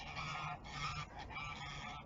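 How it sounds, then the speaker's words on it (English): Geese honk near a carp fishing lake, a faint but continuous chorus of overlapping honks over about two seconds, heard from a distance with no talking. "That's geese behind me."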